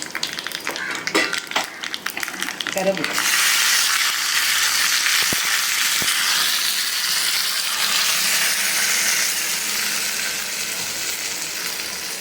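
Loud, steady sizzling of dried chillies frying in hot tempering oil for peanut chutney, starting after a few seconds of clattering and stirring, then a continuous crackling hiss.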